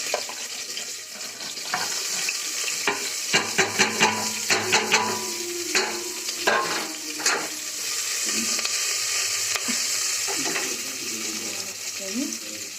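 Green chillies and onion frying in a pan for beetroot palya, a continuous hiss of sizzling oil broken by sharp metallic clinks and scrapes of stirring, close and fairly loud.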